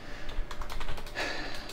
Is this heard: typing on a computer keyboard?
yes